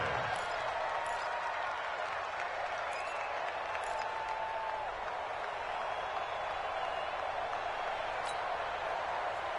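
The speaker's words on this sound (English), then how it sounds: "the crowd getting into it as we come up on a big third down" A stadium crowd in an American football video game roars and applauds in a steady, dense wash ahead of a big third down, holding loud and constant throughout.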